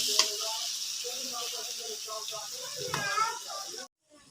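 Fish and softened tomatoes sizzle steadily in a pan as a stirring utensil scrapes now and then, with a voice talking over the frying before the sound cuts off abruptly near the end.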